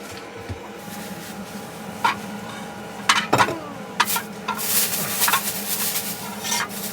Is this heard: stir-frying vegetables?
yes